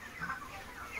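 Broiler chickens clucking inside a poultry farm shed, a soft steady chorus of overlapping hen calls throughout a short moment with no talk.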